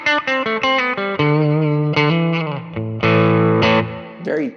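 Bright, pokey Tele-like tone from a Schecter PT electric guitar's bridge pickup, with a short burst of quick picked notes followed by ringing chords, driven and slightly distorted, loud and close without any voices.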